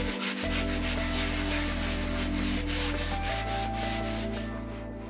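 Fairing compound on a boat hull is sanded with a power sander, a steady loud whirring hum with rough scraping texture that continues without a break and shifts pitch slightly partway through.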